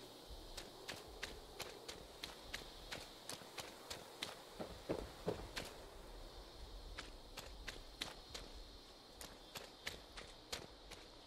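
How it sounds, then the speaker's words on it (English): Footsteps cross a floor inside a house in the Fallout 76 video game, a steady run of quiet evenly spaced taps, faint against low ambient noise. "That was weird footsteps there."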